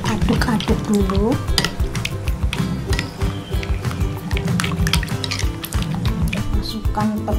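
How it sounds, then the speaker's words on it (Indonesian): Close, busy stirring and scraping of sweet potato cake batter in a bowl, with a utensil clinking and tapping against the sides throughout. "Diaduk-aduk dulu."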